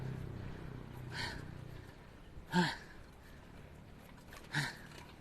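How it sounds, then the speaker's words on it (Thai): Someone is out of breath after a short bike ride near Bang Saen beach, with three faint, separate heavy breaths spaced a second or two apart over quiet background hiss. "ปั่นแป๊บเดียวก็หอบแล้วนะ"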